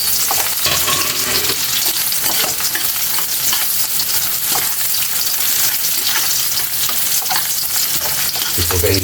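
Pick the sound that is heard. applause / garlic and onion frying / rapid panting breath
garlic and onion frying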